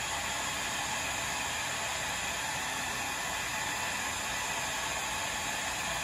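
Hair dryer running on battery power through a transfer switch, a loud steady whooshing hiss of fan and air that holds constant without a break.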